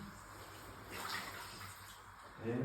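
Water sloshes and splashes steadily as a jacket is washed by hand. Turkish voices talk over the washing, and the sound swells briefly partway through.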